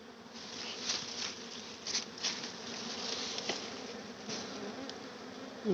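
Dwarf honey bees swarm around a small wild nest, making a steady, close droning buzz that rises and falls, with a few faint rustles and no voices.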